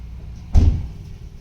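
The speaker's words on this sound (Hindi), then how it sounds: "बंद कर दरवाजा।" A single solid thud as a car door swings shut, close and fairly loud, with a short low rumble that fades quickly in a quiet setting.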